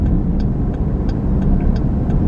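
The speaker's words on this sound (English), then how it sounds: "God, I love the sound of a turn signal." A car's turn signal ticks steadily inside the cabin, with about six evenly spaced clicks riding over a loud, constant low road and engine rumble; nobody speaks.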